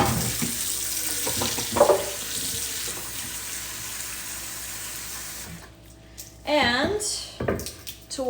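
Water running from a kitchen tap into a bowl, a steady hissing stream for several seconds, then stopping, followed by a few splashy clatters.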